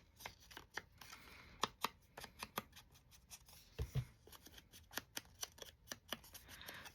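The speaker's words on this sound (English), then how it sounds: "Get my scissors off my glue book." Scissors snip and clack in a series of crisp, close cuts while tags are decorated at a craft table, the sharp clicks coming every fraction of a second with a few softer handling knocks between them.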